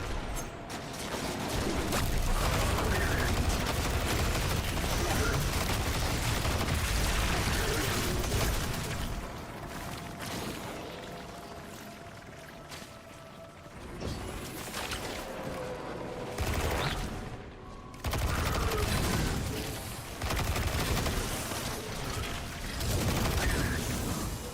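Enemy gunfire rattles in Destiny 2 as dense, continuous volleys of mechanical shots, loud and close, with a few brief lulls between sustained bursts.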